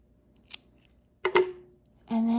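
Scissors snipping yarn after crochet, with a light click and then a crisp double snip close to the mic, followed by a voice starting to talk.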